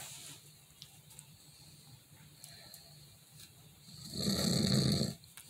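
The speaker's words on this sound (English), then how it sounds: "He's snoring, Grandma." An elderly person's snoring sits low and soft for most of the stretch, then swells into one loud, rasping breath near the end before fading.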